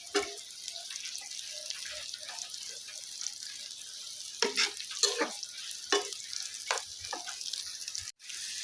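Onions sizzle gently in a pan of oil while a spatula stirs and scrapes them, soft steady frying under intermittent clinks and scrapes, fairly quiet and close.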